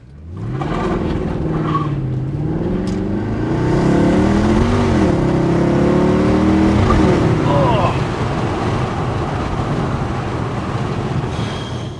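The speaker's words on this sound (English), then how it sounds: "this is the best sounding car I've ever driven" A Mercedes C63 engine revs hard and accelerates with traction control off, the pitch climbing through gears with a loud throaty roar, steady and close.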